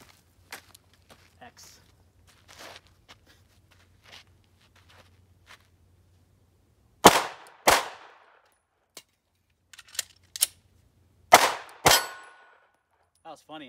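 Glock 43X pistol shots ring out as sharp, loud cracks in two spaced pairs with a few fainter single reports between them, separated by quiet stretches with faint handling noises.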